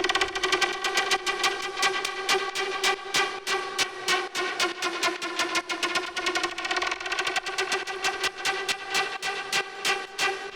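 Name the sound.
sawtooth synth lead with FM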